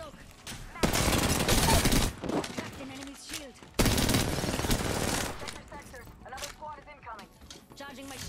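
R-99 submachine gun firing in the video game Apex Legends, two long loud bursts of rapid automatic fire mixed with other game effects, while a player talks over the action.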